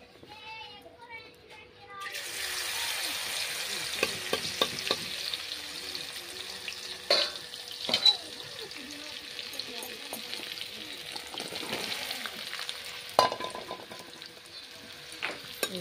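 Potatoes frying in a pan for a village-style home recipe, steady loud sizzle starting after a brief quiet lead-in, with occasional stirring clatters and a voice faintly in the background.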